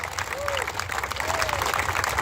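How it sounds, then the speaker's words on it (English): An audience applauds the chief mechanic of a racing team at an event, a steady, soft wash of clapping from a crowd heard at a distance, with a couple of faint whistle-like tones drifting over it. "Give him a nice round of applause."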